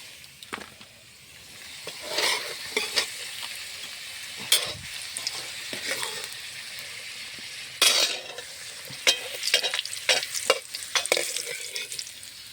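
Potato pieces fry in oil with a constant bright sizzle while a utensil scrapes and stirs through the pan, lifting them out with intermittent scraping knocks; no voices.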